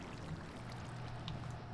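A waterfall in a Fallout adventure map video game gives a faint, steady pouring rush of water throughout the brief moment.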